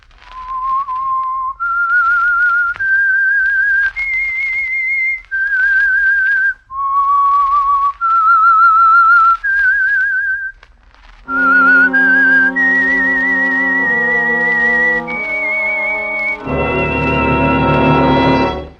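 A clear, close whistled melody, the opening theme of the radio drama The Whistler, moves through several sustained notes, joined near the end by a swelling orchestral chord.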